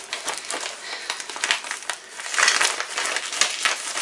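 Packaging is crumpled and pulled away from a taped cardboard parcel holding six second-hand books, giving dense, close crinkling and crushing bursts that come in irregular clusters.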